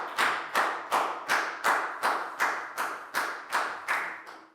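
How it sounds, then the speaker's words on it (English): Students clap in about ten evenly spaced, sharp slaps that each fade quickly, heard close by in a classroom with no talk. "High five and a big round of applause for Down"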